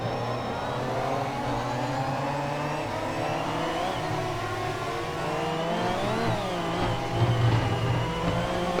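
A race car in the Project CARS video game drives at speed, its engine note rising and falling steadily through gear changes over a continuous whirring drone.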